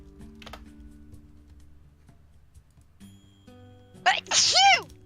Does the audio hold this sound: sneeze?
yes